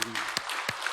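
A church congregation claps steadily in broad, even applause, with a few sharper claps standing out now and then.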